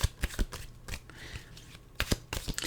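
A deck of tarot cards is shuffled up close, with quick riffling flutters and soft slaps coming in short bursts separated by brief pauses.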